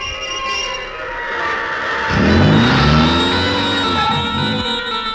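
A car pulls away and accelerates, its engine rising from a low idle into a loud, climbing rev that sweeps upward over a couple of seconds before easing off, with no talk over it.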